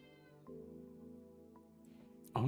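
A house cat meows for food in a long, drawn-out call, followed by a shorter second meow and then a louder abrupt sound at the end, close by in a quiet room.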